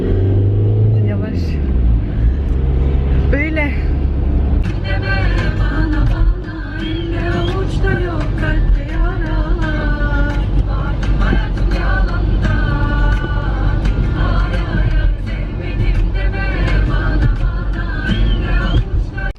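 Interior of a car driving on the road, a loud steady engine and road rumble throughout, with people talking over it for most of the clip.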